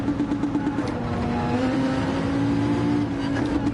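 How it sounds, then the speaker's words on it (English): In Gran Turismo 7, a race car engine drones steadily at high revs, with the pitch shifting slightly as another car closes in during an online race. "I can hear another engine"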